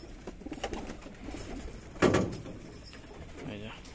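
Pigeons in a loft coo softly in rounded, throaty bursts, one louder coo standing out near the middle, with someone talking quietly and faint rustling around them.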